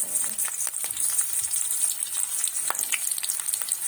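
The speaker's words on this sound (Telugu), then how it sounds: "ఇవి లైట్గా గోల్డెన్ బ్రౌన్ కలర్ వచ్చే వరకు ఫ్రై చేసుకోవాలి." Onions and green chillies frying in a pan with mustard seeds and cumin, a steady, bright crackling sizzle with scattered pops, close and continuous throughout.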